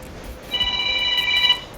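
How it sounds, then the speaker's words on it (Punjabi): A phone rings with a short electronic tone, a bright sustained chime lasting about a second over a quiet room. "ਆ ਦੇਖੀ ਜਾ ਕਿਹਦਾ ਫੋਨ ਆ"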